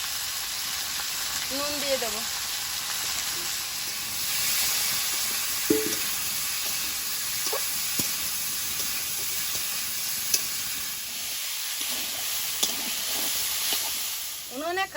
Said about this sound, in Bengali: তেলটা গরম হয়েছে, এবার উচ্ছে আলুটা দিয়ে দেবো।